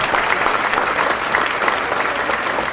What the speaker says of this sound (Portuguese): Para quem eu peço também uma salva de palmas para o Fernando Sousa, o Dom Quintal dos Açores, meu amigo internacional